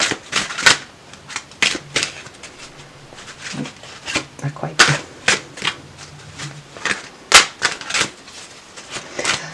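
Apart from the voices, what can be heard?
shuffling tarot cards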